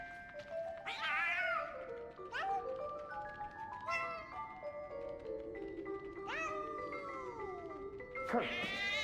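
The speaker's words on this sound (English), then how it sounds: "Why is that cat meowing?" A cat in the video game 11-11 Memories Retold meows repeatedly in long, drawn-out, wavering cries over a steady hum, several meows spaced a couple of seconds apart.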